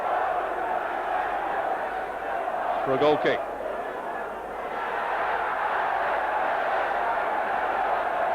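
A football crowd at Derby County against Nottingham Forest in 1990 jeers Stuart Pearce, a steady roar filling the stadium throughout while a commentator talks over it.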